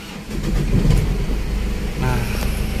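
Mazda BT-50 pickup with an injection pump needing calibration cranking and starting, a loud close engine rumble that catches and settles into a steady idle hum.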